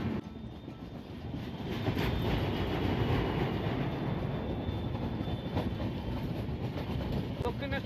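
Uttarbanga Express LHB passenger train pulling out of Dakshineswar station, a steady loud rumble of wheels and carriages with faint rhythmic clatter, growing slightly stronger after the first couple of seconds and continuing without a break.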